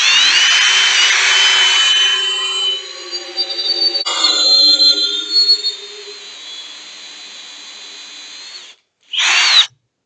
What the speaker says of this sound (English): So I'm just gonna put it on drill.